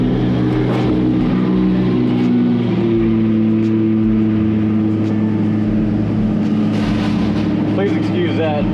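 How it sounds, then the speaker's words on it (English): Loud, close idling drone of a Cummins diesel pickup truck at a burned-out barn demolition site, a steady engine hum with shifting tones, brief sharp clatters near the end. "please excuse that hillbilly Cummins diesel pickup truck"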